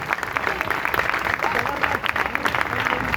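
An audience claps loudly and steadily in a dense, continuous wash of applause with crowd murmur, close and sustained for a few seconds.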